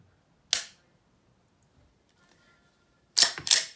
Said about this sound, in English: You can practice your dry firing.